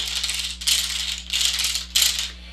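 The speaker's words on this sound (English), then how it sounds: "This is a wooden caterpillar from South America." A wooden caterpillar rattle toy from South America shaken in four bursts, close and crisp, the wooden segments clattering together, with a faint steady hum beneath.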